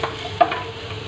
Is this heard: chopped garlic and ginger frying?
yes